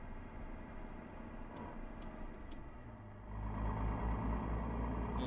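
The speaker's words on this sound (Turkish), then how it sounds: "Görüyorsunuz bayağı güzel bir egzozdan ses geliyor şu an." Exhaust from a Mercedes Axor 3240 truck in Euro Truck Simulator 2 drones low and faint under a steady idle, swelling to a heavier rumble partway through as the engine note rises.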